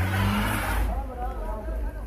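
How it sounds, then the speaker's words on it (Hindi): A car labouring up a steep, snowy road in Murree during snowfall, its engine rumbling close by, with a voice talking over it. "ये देखें गाड़ी, यहाँ से ऊपर आना गाड़ी का बेहद मुश्किल है"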